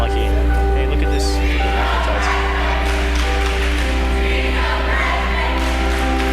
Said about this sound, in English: Jackson crowd's pretty hyped